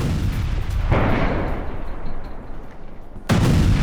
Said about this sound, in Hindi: सबसे बड़े पावर स्टेशन पर यह मिसाइल अटैक